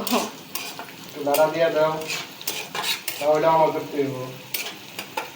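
Onions frying and being stirred in a pan in a Bangladeshi village kitchen, with a steady sizzle, scraping strokes that squeak twice in longer runs, and scattered clatter of the utensil against the pan.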